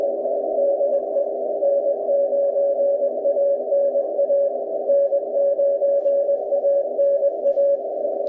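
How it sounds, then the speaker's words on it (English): A Morse code CW signal comes through on a ham radio receiver as a single unbroken steady tone that holds at an even, moderate level the whole time, with no voices. "See, listen to that QSB."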